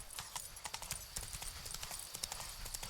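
Horse hooves clip-clopping at a steady trot in The Witcher 3 game, a quick run of soft, even hoofbeats over a low ambient bed.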